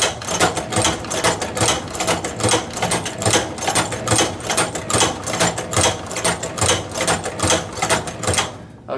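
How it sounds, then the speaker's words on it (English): OUTLAW portable hand-operated leather sewing machine stitching leather, a steady rhythmic series of close mechanical clacks and thumps repeating about twice per second without pause. "I'm going to go ahead and continue sewing."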